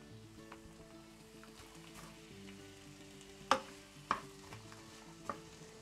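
Peas tipped into a frying pan of onion and tomato with pepper, giving a low, steady sizzle and frying noise, broken by three sharp clinks of a utensil against the pan.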